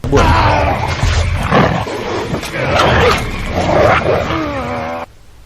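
A wolf attacks and growls in a film scene set on polar ice. Loud, continuous snarling and rough growls fill the whole stretch before cutting off abruptly.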